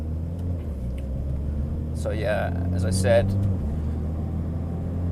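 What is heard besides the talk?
Mitsubishi Evo X MR car idling while warming up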